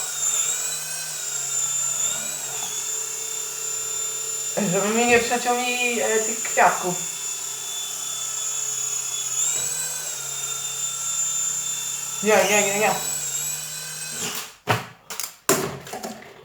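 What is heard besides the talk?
toy drone flying and hovering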